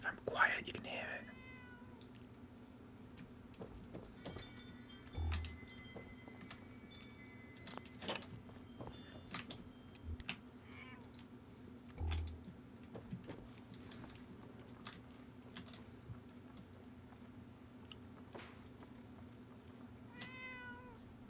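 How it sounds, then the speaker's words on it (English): A cat meows several times, faint and distant, with a few short calls scattered through a quiet room while a person whispers and talks softly. "A real life cat?"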